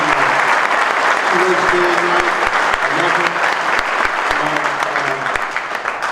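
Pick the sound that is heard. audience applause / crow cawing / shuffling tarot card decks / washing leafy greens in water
audience applause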